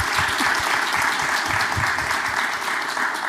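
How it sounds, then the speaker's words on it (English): Dense, steady applause from an audience at a university student event honoring a television journalist, a continuous close wash of clapping with no break. "So just another round of applause for her."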